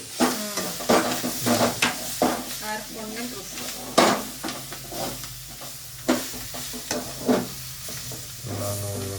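Masala ingredients with greens frying and being stirred in a pan for green chicken chops, a steady sizzle broken by repeated loud scraping strokes of a spoon against the pan, close and clear with no talking.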